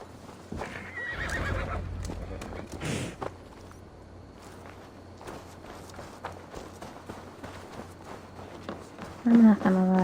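Horse whinnying and hooves clip-clopping in Assassin's Creed Valhalla, mixed with game ambience and bursts of talk; a loud neigh stands out near the end.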